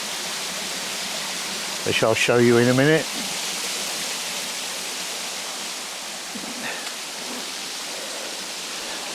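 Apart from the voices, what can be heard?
small waterfall cascading into waterway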